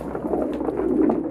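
A one-legged homing pigeon coos close by, several soft, low throaty pulses in quick succession, alone without talking.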